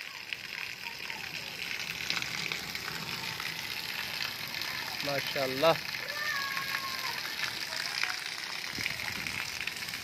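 Rain pours down in a village with a constant soft hiss, while a person speaks briefly in the middle and some faint background voices drift in and out.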